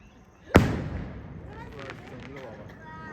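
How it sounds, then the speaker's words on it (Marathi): A single sharp firecracker bang goes off nearby to welcome a newborn baby girl home, followed by a lingering rumble and faint crackle, with brief voices in the background. "बेबीच्या वेलकम साठी फटाके वगैरे सुद्धा आणलेत"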